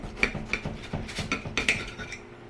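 A knife scrapes and taps against a plate while a pub-style pizza burger is cut in half, giving a run of close, irregular clinks and scratches.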